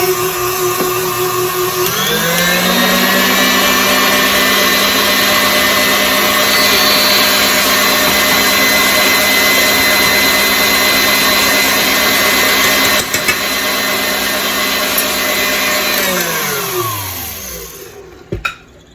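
An electric mixer whirs steadily through cake batter for a Fourth of July cake, ramping up to a loud, constant motor drone that holds for over ten seconds before winding down, with no talk.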